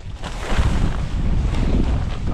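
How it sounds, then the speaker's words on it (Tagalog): Strong wind buffeting beside a river, a loud, continuous low roar and rumble of gusts hitting the microphone, steady throughout with no speech. "Lakas ng hangin."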